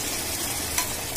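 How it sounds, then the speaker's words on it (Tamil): Onion, tomato and green chilies are sautéed and stirred in a pan for a mutton kurma, giving a brief, steady sizzle with a spatula scrape, close and loud, with no talking. "அடுத்தது வெங்காயம் தக்காளி ஆட் பண்ணி நல்லா வதக்கிக்கலாம்"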